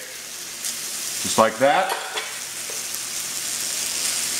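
Garlic goes into pole beans frying in a pan, setting off a steady, loud sizzle that runs throughout, with a person speaking briefly over it.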